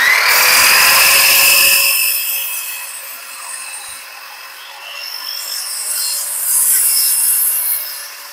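A saw cuts through a wooden stair tread up close, a loud grinding whine for the first two seconds, then a fading spin-down ringing on for several seconds.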